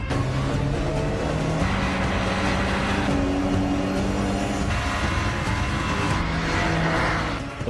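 An Austin Allegro speeds flat out in reverse, its engine whining loud and steady with a rising and falling tone, mixed with road and tyre noise.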